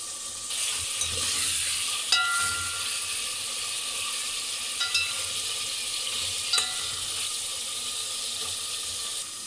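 Meat frying in a pot for chicken korma gives off a steady, moderate hiss and sizzle, with a few sharp utensil clinks scattered through it and no talking.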